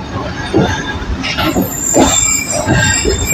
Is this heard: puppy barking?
no